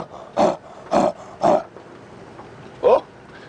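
A person imitates a leopard roar with four rasping, sawing grunts: three evenly spaced, then a pause before the last, loud and close, on a safari drive in Africa.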